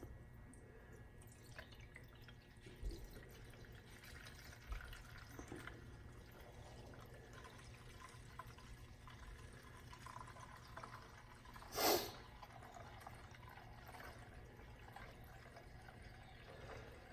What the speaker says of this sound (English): We're going to pour the True Fuel and shaking it